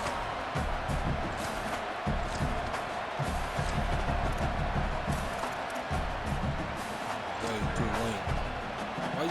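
Stadium crowd roar from an EA Sports College Football video game, a steady dense wash of noise swelling and ebbing throughout, with a commentator talking over it.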